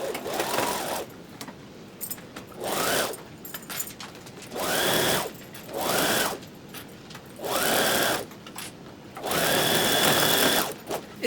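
A home sewing machine stitches the tail of a stuffed fabric lizard made from a vintage pattern, running in repeated short whirring bursts separated by pauses, close and fairly loud.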